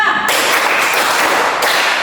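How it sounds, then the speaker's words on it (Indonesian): Classroom group clapping in a counted rhythm, a dense fast run of many hands in a room, steady and loud for the whole stretch with no talk over it. "Tepuk 1, tepuk 2, tepuk 3, tepuk 4, tepuk 5"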